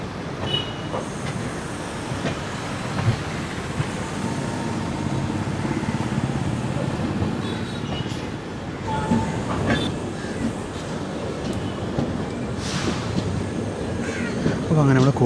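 The 16337 Okha–Ernakulam Express rolls into the platform 1 loop near Kozhikode with a continuous rumble and wheel clatter, while crows caw intermittently and voices are faintly heard.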